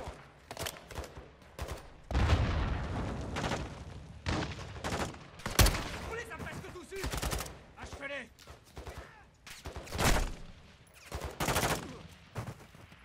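Bursts of automatic gunfire in the video game Modern Warfare 2, rapid sharp volleys stacked close together across a firefight, with voices talking now and then between the shots.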